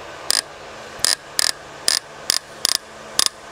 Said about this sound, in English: they're torqued to yield bolts, so we're stretching them right now